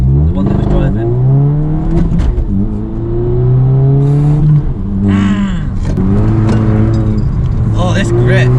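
A 2-litre diesel car drives and accelerates. Its loud engine drone climbs and falls in pitch through repeated pulls and gear changes, heard from close by, as people talk over it.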